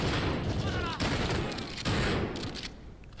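Gunfire in Call of Duty: Modern Warfare (2019), a volley of loud close shots with sharp cracks near one and two seconds and a fading rumble, with a voice briefly mixed in.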